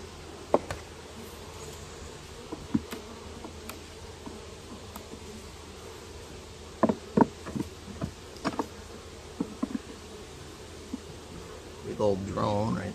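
Faint, continuous buzzing of honey bees at a hive on a hot day hums throughout, with scattered light rustles and ticks close by and no talking.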